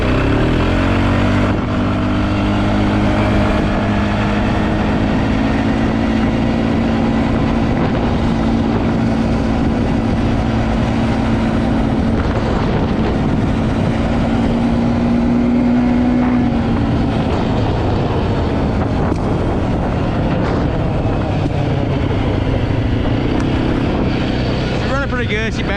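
A Can-Am DS 250 ATV engine runs loud and close while riding, its drone rising and falling in pitch as the throttle changes, with wind noise throughout.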